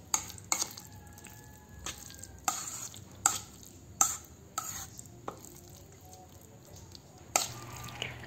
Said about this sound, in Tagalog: Lagyan din natin ito ng itlog. Haluin natin ulit.